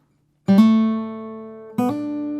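Two strummed chords on an acoustic guitar, the transition riff of a song. The first rings out long and fades, and a second chord follows just before the end, close and clear.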